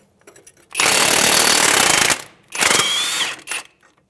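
An impact wrench spins the nut off a front strut bolt on a 2011-2017 Honda Odyssey, sounding as a long loud rattling burst, then a second shorter burst and a brief final blip, close by.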